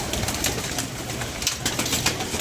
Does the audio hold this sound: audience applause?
no